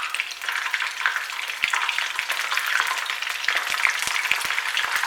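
Battered prawns deep fry in hot oil with a steady, bright sizzling hiss and scattered crackles and pops, close and continuous throughout.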